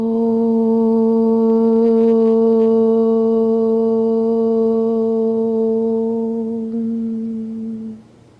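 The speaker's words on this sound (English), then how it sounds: "we begin with the sound of Om 3 times to attract divine attention" A group chants a single long, deep Om at the start of an early-morning yoga session, one sustained, resonant drone that holds steady and then fades away at the end.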